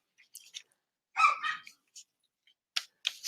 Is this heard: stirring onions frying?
no